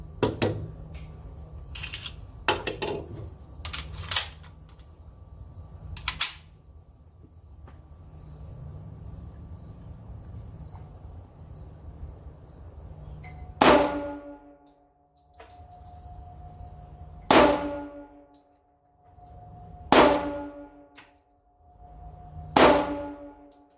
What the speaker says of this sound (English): Let's shoot it some more.